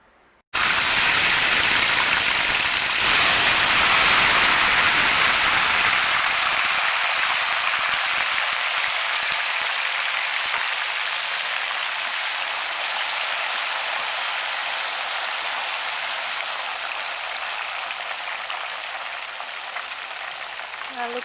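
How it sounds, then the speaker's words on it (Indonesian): Salted fish frying in hot oil over a medium flame in Padang-style home cooking, a dense continuous sizzle and crackle that starts suddenly loud and gradually eases as it goes on, with no talking. "Lalu kita goreng sebentar saja"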